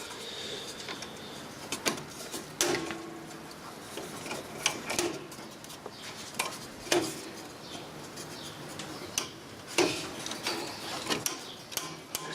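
A Sanyo Betacord tape machine's mechanism clicks and whirs as the tape disengages, a quiet series of irregular mechanical ticks and clunks close by.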